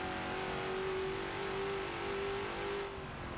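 A Ford GT40 engine in the Forza video game held at full throttle on the Nürburgring Nordschleife, a steady loud drone with a rising whining note and no talk over it.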